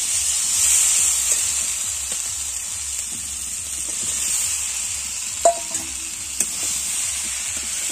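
Green jackfruit pieces dropped into a pan of frying potatoes, giving a steady close bright sizzle with a few soft clinks and stirring knocks partway through.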